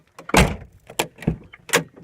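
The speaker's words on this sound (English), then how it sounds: "the door opens and closes again with the outdoor handle" The side door of an Astro van camper opens and closes using the outside handle, giving four distinct metallic clunks and latch thumps in quick succession, close and fairly loud, with no voices.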